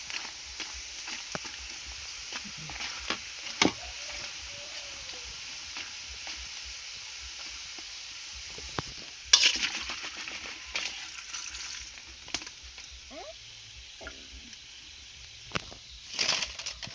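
A Thai snack deep-frying in hot oil gives a steady soft sizzle, broken by occasional louder crackling bursts and scraping stirs, heard nearby without talking.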